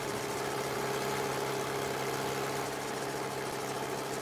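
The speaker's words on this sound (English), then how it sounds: "I don't mind hearing the sound of an old tractor" Old farm tractor engine idling steadily on a Pennsylvania farm, a continuous loud mid-to-low rumble with a constant vibrating drone and no gaps, heard alone without talk.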